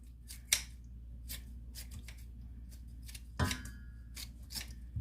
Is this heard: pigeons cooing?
no